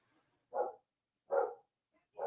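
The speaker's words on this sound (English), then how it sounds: "You may hear my dogs. I do apologize. They're barking at other dogs." Dogs barking at other dogs, three separate woofs spaced evenly apart, fairly faint and somewhat distant against otherwise quiet background.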